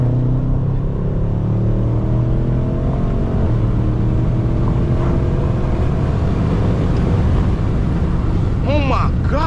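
A BMW M550i with a V8 engine drones loudly from inside the cabin while driving, its deep rumble shifting pitch as it pulls, with a voice speaking near the end.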